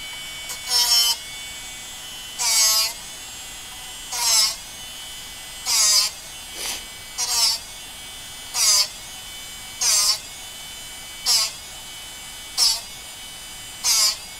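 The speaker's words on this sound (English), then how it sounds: "you're going to hear a lot of grinding, and then a little bit less, and a little bit less" A Drill Doctor 750X sharpener grinding a drill bit on its stone in short, evenly spaced buzzing bursts, about ten of them, loud and close with quiet gaps between.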